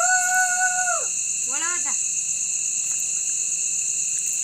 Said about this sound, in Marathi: रात किडे आरडत आहेत भरपूर